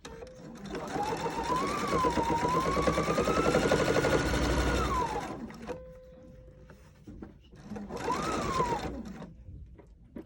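A sewing machine stitches a lined pocket in two close, loud runs of fast whirring with a short pause between them as the needle stays down to pivot at a corner.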